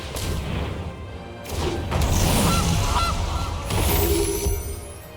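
Goose honking sound effect in the MTG Arena digital card game, several loud nasal honks over a dense, noisy game soundscape with booming impacts.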